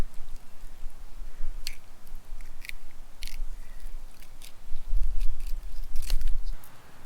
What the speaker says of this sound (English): I'm gonna cut them in half so I can hang them over a stick like that